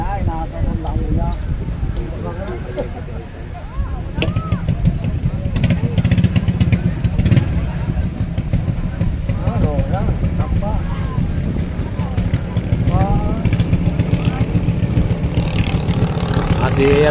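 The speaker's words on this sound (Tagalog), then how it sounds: "Nakikiramdaman pa ang lakas ng makina." A racing motorcycle being tested for a national race holds a steady, loud buzzing engine note for a long stretch, with an announcer talking over it.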